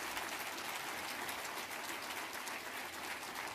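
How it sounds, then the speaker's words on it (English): Round of applause from an audience at an Army briefing, a steady dense wash of many hands clapping at once, fairly faint and distant, continuing without pause. "one more round of applause"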